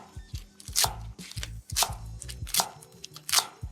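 Knife chopping vegetable stems on a cutting board for Chinese vegetable soup, about four or five quick bursts of sharp chops each followed by a thud, close and clear with no talk.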